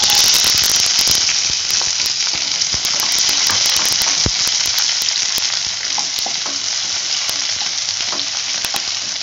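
Sliced onions, two medium-cut, frying in hot oil in a pan, giving a steady loud sizzle with occasional crackles and stirring clinks throughout, close and continuous.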